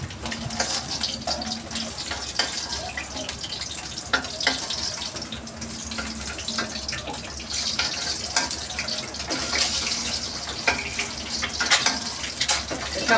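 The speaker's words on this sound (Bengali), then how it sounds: "ডিমগুলোকে কিন্তু আমি খুন্তির সাহায্যে নাড়বো না, এইভাবে করে নাড়িয়ে দিব আর সুন্দর করে ভাজা হয়ে যাবে।" Eggs frying in oil in a pan give a steady, close sizzle and hiss that runs the whole time, with small crackles and light scraping now and then.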